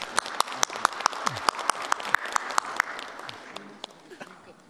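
Audience clapping at a youth representatives' meeting with the president: a small crowd gives sharp, distinct individual claps in a quick uneven patter that thins out and fades toward the end, fairly close.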